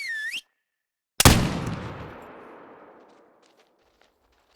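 A single loud rifle shot fired at a whitetail buck during a hunt cracks sharply and then rolls away in a long echo that fades over a few seconds, with a brief whistle just before it.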